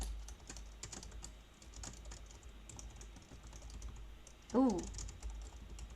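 Steady clicking of computer keyboard typing runs throughout at a quiet, close level, with a brief spoken exclamation near the end.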